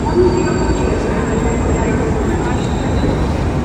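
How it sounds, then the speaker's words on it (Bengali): Loud, steady rumble of a metro train arriving at an Athens station, with a continuous low roar and faint high whine from the wheels. "এই যে আমাদের মেট্রো চলে আসছে"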